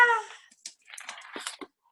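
A house cat meows close by, a clear drawn-out cry followed by several shorter, softer chirping meows in quick succession.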